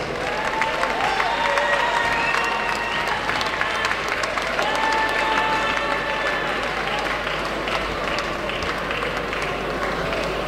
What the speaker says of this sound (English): can we have a huge round of applause for these two fighters?